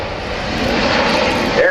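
Steady, loud roar of a C-17 Globemaster III's jet engines during a low-speed airshow demonstration at an air force base open house, a sustained broadband rumble that swells slightly near the end.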